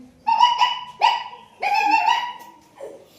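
A voice mimics a dog, giving four sharp, close barks in an uneven rhythm, the last one softer.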